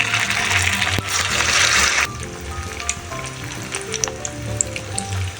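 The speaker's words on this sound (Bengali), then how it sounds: "এবার আমি পকোড়াটা ভাজার জন্য আমি এখানে কড়াই কিছুটা পরিমাণে তেল দিয়েছি।" Sago pakoras fry in hot oil in a kadai with a loud, continuous sizzle that drops to a softer crackle partway through, with occasional pops and spatters.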